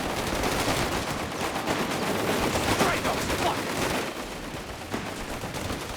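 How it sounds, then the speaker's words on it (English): Machine gun fire and grenades sound during a Company of Heroes 3 one-versus-one match, a dense, continuous rattle of battlefield gunfire with bursts layered throughout and no pauses. "Grenades to help wipe these machine guns."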